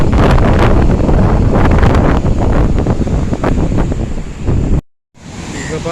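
Cyclone-driven waves pound the shore on the Tamil Nadu coast, a loud, surging roar mixed with wind buffeting. The sound cuts out briefly near the end, then the wind and surf return.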